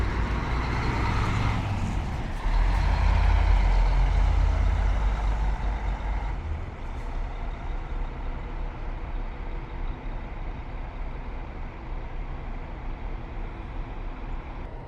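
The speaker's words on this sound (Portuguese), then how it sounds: "Saindo aqui agora, ônibus para São Paulo, hein?" A large intercity coach pulls out of the Goiânia bus station on its run to São Paulo, its engine rumbling loud and close at first, then settling into a steady idle-level drone amid station and roadway noise.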